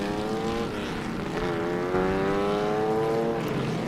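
Lotus 23B replica race car taking a hairpin, a steady loud engine note whose harmonics bend as it brakes and accelerates through the turn, fairly close, with no talk over it.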